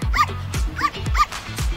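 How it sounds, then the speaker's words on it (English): A dog on a walk gives three short yips and barks, close and fairly loud, with whimpering tones between them. "You take that dog everywhere!"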